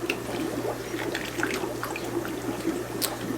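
An Oase canister filter, still holding water, gurgles and burps as it is pushed back into place, a steady low watery churn with small bubbling pops scattered throughout, close and moderately loud.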